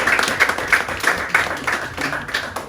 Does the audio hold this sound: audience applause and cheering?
yes